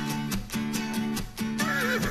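Horses whinny and neigh close by, repeated high, quavering calls in quick succession with a low rumble underneath.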